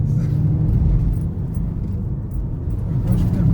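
Steady low rumble of a Volkswagen Golf 6 TDI with a stage 2 tune pulling under acceleration, heard from inside the car as a constant drone with a slight swell near the end.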